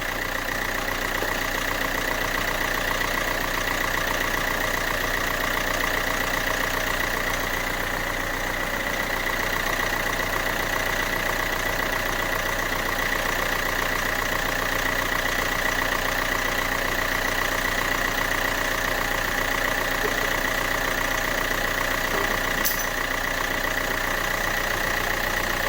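A car engine idles steadily after a cold start, a swirl flap having come off inside it; a constant, fairly loud hum with a faint tick runs unbroken throughout, with no talking.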